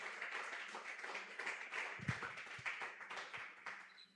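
A church congregation claps during a Spanish-language sermon, a faint, scattered patter of hands heard from a distance, with a few louder claps near the middle.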